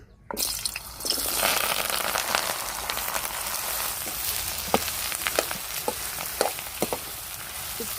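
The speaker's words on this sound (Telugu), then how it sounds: "ఆయిల్ బాగా వేడైన తర్వాత ఇంకా ముక్కలు వేసేసుకొని ఫ్రై చేసేసుకోవాలి" Ridge gourd and green chilli pieces frying in hot oil, a dense crackling sizzle that starts suddenly as they go in and then holds steady, with scattered pops and faint stirring clicks.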